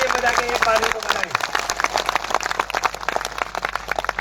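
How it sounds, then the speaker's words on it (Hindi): A crowd at a community gathering claps in agreement, producing a loud, continuous patter of applause under a voice. "तालियां बजा के एक बार को बताएं"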